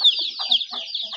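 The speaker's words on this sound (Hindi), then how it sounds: "मुर्गे हमारे खुश रहते हैं जगह पे घूमते हुए" Chickens clucking nearby in short, choppy bursts, several calls in quick succession.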